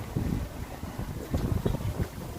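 Strong outdoor wind buffeting a microphone during a walk at the DouDou festival in Mons, with low rumbling gusts that thump and swell irregularly across a couple of seconds.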